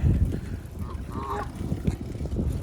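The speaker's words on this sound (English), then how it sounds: "And some geese." Geese at a wilderness lake park give a short honking call in the middle, faint against a low, rumbling outdoor background.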